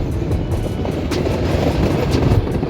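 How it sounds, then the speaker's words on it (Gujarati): A meter gauge train pulls out of Amreli and rumbles along slowly and steadily with faint rhythmic clicks of wheels on rail joints, heard from close by inside the carriage. "જો અત્યારે આપણી ટ્રેન હાલવા માંડી હરવે હરવે"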